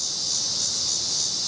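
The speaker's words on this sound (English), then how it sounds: "can you hear those damn cicadas?" Loud, steady high-pitched buzzing of cicadas on a summer day, a dense unbroken drone that fills the whole stretch with no voice over it.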